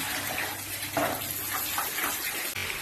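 Tap water runs steadily into a sink while fish is rinsed for a Sunday fish curry, a loud close gush with brief splashy bursts and no talk.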